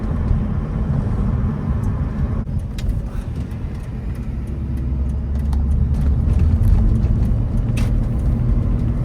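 A 2004 BMW 325ci E46 coupe drives along with a steady, close engine and road rumble inside the cabin, and the low drone rises and settles a little as the transmission shifts smoothly. There is no talking.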